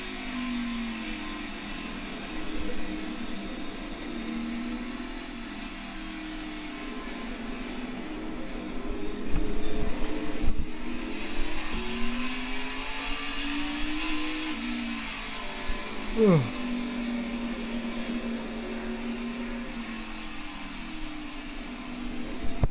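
An Xfinity Series stock car lapping the Charlotte Roval, heard from onboard: a steady engine drone with gear changes and a short rising rev near the end, continuous and fairly close.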